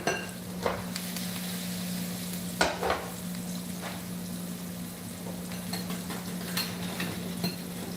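Eggs frying in a pan with softened onions and broccoli stems for a Greek omelette, a steady close sizzle with occasional clinks of a utensil against the pan and a low hum underneath.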